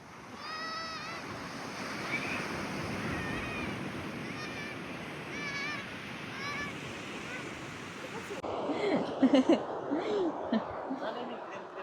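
Ocean waves wash and roar in the background while birds chirp; later the surf grows louder and closer, with faint voices.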